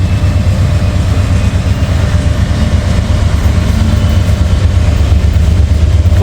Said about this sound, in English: got a DPU coming through